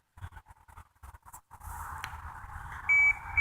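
A few electronic beeps from the ParaTek AI V1.9 ghost detector phone app ring out over rustling and handling noise in a cemetery in the morning, ending in a steady held tone near the close.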